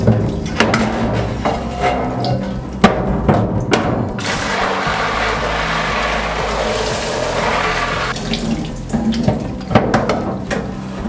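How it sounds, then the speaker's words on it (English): Water sprays and splashes steadily across both sides of a silkscreen for several seconds, framed by clattering knocks and handling sounds before and after. "firstly we're going to wet the screen both sides with water."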